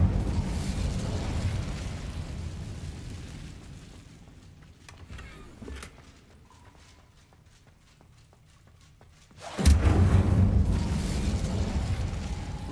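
A fire spell cast in the Hogwarts Legacy video game bursts out loud after a quieter stretch, a sudden whooshing boom that stays full and roaring for several seconds.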